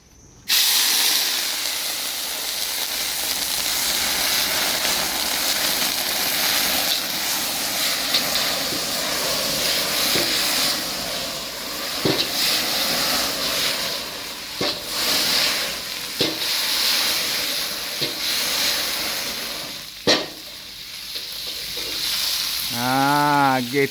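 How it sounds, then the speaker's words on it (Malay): Three dried chillies frying in heated oil, a loud continuous sizzle and hiss with occasional scraping stirs, close and steady throughout. "Panaskan minyak. Lepas tu kita tumis dulu 3 biji cili kering"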